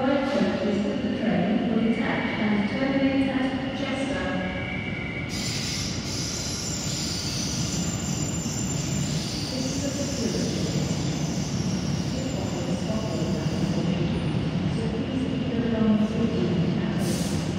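London Overground Class 710 electric train departing Platform 9 at London Euston, with wheels squealing and a rolling rumble that builds and carries throughout, joined by a brief platform announcement.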